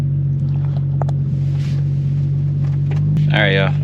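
BMW 335i twin-turbo engine with a boost leak idling, a steady, smooth low hum close by, with a brief voice near the end.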